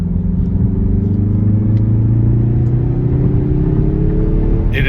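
A 2023 Mazda 3 2.5 Turbo AWD accelerates with a steady, loud engine drone whose tones climb gradually, heard from inside the cabin with a constant low rumble and no talking.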